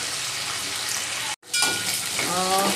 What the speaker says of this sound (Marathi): कढीपत्ता परतवून झाला आहे आपला.